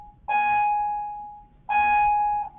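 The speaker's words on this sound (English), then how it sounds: "Sorry about the bell." An electronic bell rings twice, each chime a sustained bright tone with a sharp onset that slowly fades, the second starting about a second and a half after the first, loud and near with no talk.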